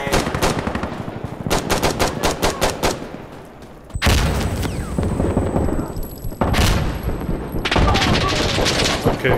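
An MP7 fires in the shooter game Insurgency Sandstorm, loud and close, in rapid automatic bursts separated by short pauses, with heavy thumps and other gunfire mixed in.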